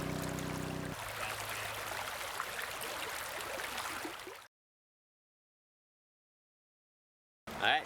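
Creek water runs steadily as a broad, even rush, with a deep pool nearby and a pump set up, then cuts to silence before a brief loud burst at the end.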